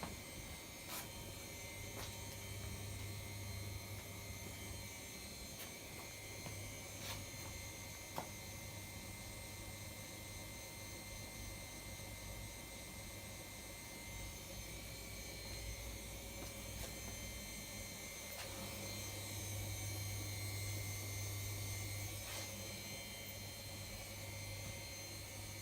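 A Siemens E14-19 washing machine runs its spin cycle, with a steady whirring drone and hum that grows gradually toward top speed, heard close and continuous with faint periodic clicks.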